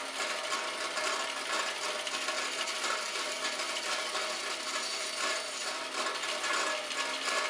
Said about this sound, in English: I'll simply trim off the excess, and we have ourselves a little spacer